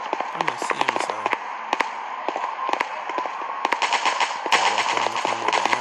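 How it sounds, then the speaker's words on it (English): Sharp rapid gunshots crackle in the mobile shooter Gun of Boom, repeated bursts over steady game noise and music, loud and close. "Oh, they're shooting."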